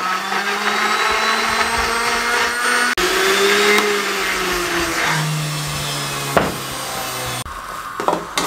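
Countertop blender whirring steadily as it purées a whole mango with a splash of water into a thick paste, the motor pitch shifting a few times with brief clunks near the end.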